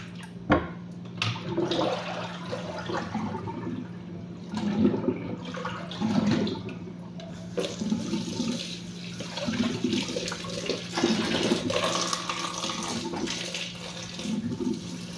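Beetroot is rinsed under a running tap, with water splashing and pattering steadily into a sink, close and fairly loud, plus occasional clunks of handling throughout.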